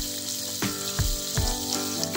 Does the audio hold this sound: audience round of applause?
no